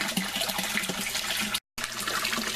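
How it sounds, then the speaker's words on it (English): Water pours steadily into an IBC fish tank of a greenhouse aquaponics system, with a cyclone filter bucket running, making a constant close rushing splash that breaks off for a moment and then resumes. "it'll have the cyclone running as the water is coming into the tank"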